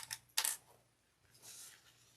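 Sewing clips snapping onto zipper tape along the edge of a handmade bag: a few sharp, bright clicks, one louder snap near the start and a softer rustling clip later, with no talking.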